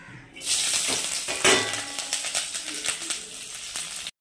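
Loud, close sizzling as garlic and chillies hit hot oil, crackling steadily with a few stirring rattles, then cutting off abruptly.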